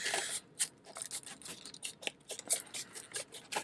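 Scissors snip and rustle at toy car packaging for a Miata diecast model, giving quick close crisp cuts and plastic scratches in an irregular rhythm, with no talking.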